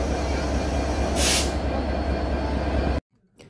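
Train standing at a railway station on the route to Dhaka, a loud steady rumble with a brief hissing burst partway through, then the sound cuts off abruptly.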